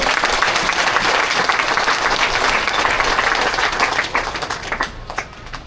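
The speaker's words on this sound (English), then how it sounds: "Let's give her another round of applause." A crowd at a secondary school commissioning ceremony gives a round of applause, dense sustained clapping from many people that holds strong for about four seconds and then thins and fades.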